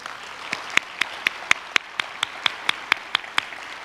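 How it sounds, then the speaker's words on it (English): Applause at an awards ceremony honouring the Man of the Year 2022, heard as a steady run of crisp, evenly spaced claps, moderately quiet, with no talking. "a warm round of applause to the MAP Management Man of the Year 2022, Mr. Isidro "SID Consunji."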